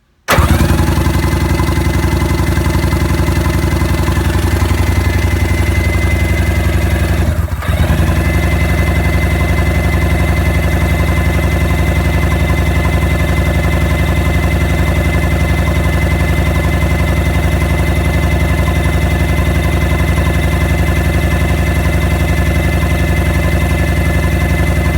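A motorcycle engine turns over and settles into a steady idle with the throttle pulled in, a loud, continuous close-up hum broken only by a brief dip a few seconds in, with no one speaking.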